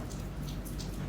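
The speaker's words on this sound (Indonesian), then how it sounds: "Suara apa itu? Suara hujan." Steady rain falling and pattering on surfaces, a dense continuous hiss with scattered louder drops, close and even throughout with no voices.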